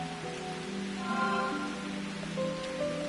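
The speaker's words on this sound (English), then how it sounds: "the rain's getting worse." Steady rain falls in the video game Root Letter, a soft continuous hiss running throughout with game music tones layered over it, no voices.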